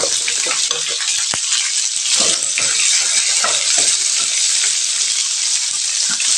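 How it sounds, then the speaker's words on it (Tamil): Onion, chayote, garlic and curry leaves sauté in a hot pan with a loud, dense, unbroken sizzle and crackle, with a few sharp clicks close by and no talking. "இதெல்லாம் நல்லா வதங்கி வரட்டுங்க"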